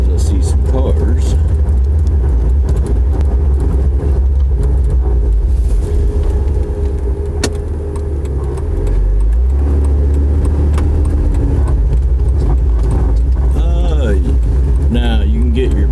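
Cars pass through an outlet mall parking lot in Lake Ozark, Missouri, as a loud, continuous low engine rumble that swells and eases. Faint voices come through partway along.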